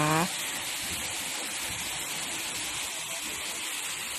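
Steady rushing splash of an artificial waterfall in a nature-style garden cafe, a constant moderate wash of falling water heard alone after a brief voice at the very start.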